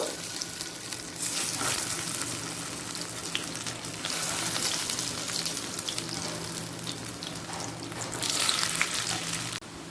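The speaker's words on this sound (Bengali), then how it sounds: "দ্বিতীয় ব্যাচের বড়াগুলো ভেজে নেব" Lentil fritters (bora) for a Bengali dhoka dalna fry in a pan of hot oil, giving a steady, dense sizzle that swells a little at moments across the whole stretch, with no voices.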